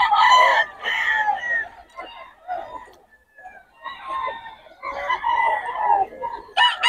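Banded gamefowl stags at a rooster market crow and cluck in repeated bursts, loud and near, with brief pauses between calls.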